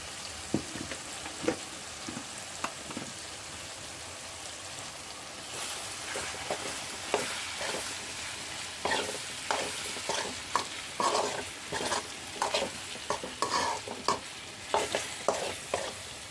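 Kashmiri chili powder is stirred into bilimbi pickle frying in a pan, giving a soft steady sizzle broken by repeated scraping strokes of the spoon that grow more frequent, with no talking.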